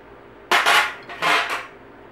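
Two sharp metallic whacks struck on an RG Sabat tube bender, each a loud ringing clank with a brief rattling tail, spaced about three quarters of a second apart.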